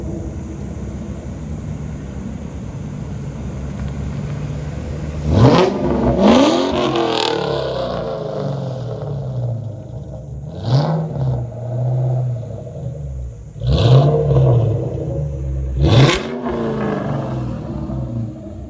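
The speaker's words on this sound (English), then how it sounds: "our friend with the Mach 1 needed to go. And so he's going to drive off here" A Ford Mustang Mach 1 pulls away and accelerates outdoors at a car show, its engine revving loudly in several rising bursts and gear changes before fading into the distance.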